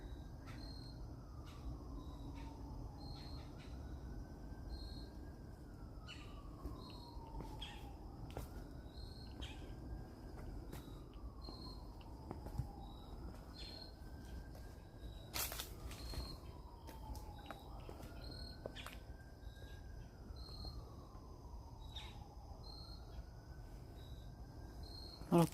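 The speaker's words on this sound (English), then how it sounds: "you can hear these chirping here" High, thin chirping of birds or insects runs steadily outdoors at an urban rally on Freedom Square in Washington, DC, beneath a loud, repeating wail of sirens and constant traffic rumble.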